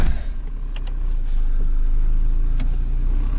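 An old Opel Corsa A, found in a barn and started after sixteen years standing, drives on a test run; its engine hums steadily from inside the cabin with a few brief rattles and clicks.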